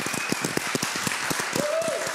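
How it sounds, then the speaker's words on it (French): A church audience applauds the worship team after a morning service, with steady, moderately close clapping throughout and a faint voice or tone rising briefly near the end. "j'aimerais simplement qu'on applaudisse vraiment le groupe de louanges pour le travail qu'ils ont fait ce matin"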